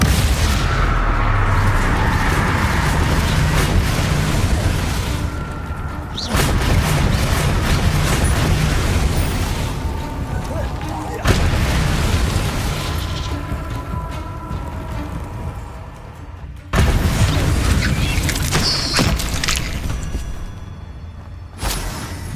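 Bombarda and Confringo spell blasts from Hogwarts Legacy on its hardest difficulty, sounding as a string of loud, heavy booms, each a sudden burst that fades into a rumbling tail before the next one hits.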